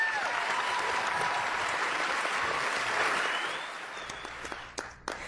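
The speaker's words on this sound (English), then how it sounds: "Applause all around here." Sustained audience applause at an honoring event for a respected man, steady and dense for several seconds before thinning into scattered claps and a few louder nearby hand claps at the end.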